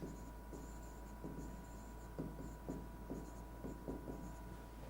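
A pen scratches on paper, giving quiet, close strokes in short irregular bursts over a faint steady hum, with no one speaking.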